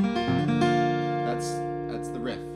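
Acoustic guitar plays a G riff, a bass note on G followed by strummed and picked chord tones, ringing close and clear with no voice.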